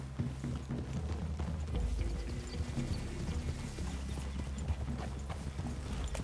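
Horse hooves clip-clop in a steady, even rhythm on firm ground in Red Dead Redemption 2, moderately close and fairly quiet, with no voices heard.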